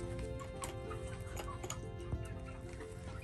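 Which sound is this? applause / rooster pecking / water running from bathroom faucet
rooster pecking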